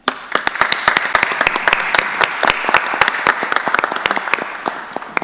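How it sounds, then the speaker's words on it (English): A crowd at a county board of commissioners meeting applauds steadily, many hands clapping in a dense, lively patter that carries on throughout, with no voices over it. "Give him another round of applause"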